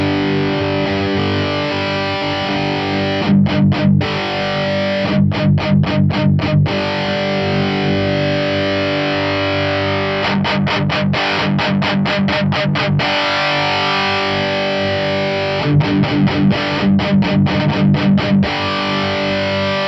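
Heavily distorted electric guitar through a Laney Ironheart amp plugin, with its dynamics knob being adjusted: loud, dense palm-muted chugging riffs in repeated bursts over sustained, saturated chords, played alone with no talk.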